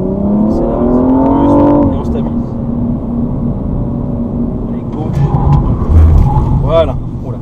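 A BMW M235i with 326 hp accelerates on a circuit test track during an avoidance exercise, its engine note heard from inside the cabin with a rising tone and a steady drone afterward, while people talk over it.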